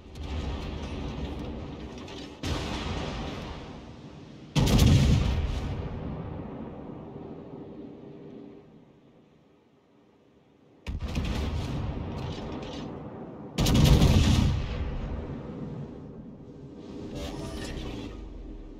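The battleship North Carolina's guns fire in World of Warships, with several heavy booming salvos that cut in abruptly and leave long rumbling decays, separated by a quiet gap.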